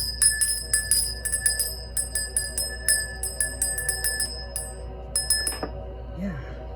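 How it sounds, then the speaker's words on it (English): A small bell rings rapidly and repeatedly in quick bright strikes for several seconds, used in an energy-cleansing ritual, then stops briefly and resumes before falling quiet. "Let's ring that bell to cleanse it out."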